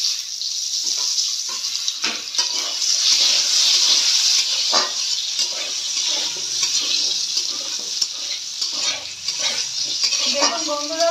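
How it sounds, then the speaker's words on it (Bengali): Cut potatoes fry in a pan with a steady, loud sizzle and crackle that runs throughout, with occasional stirring scrapes near the end. "এবার সেই যে আলুগুলো কাটা হয়েছিল সেগুলো একটু ভেজে নেব।"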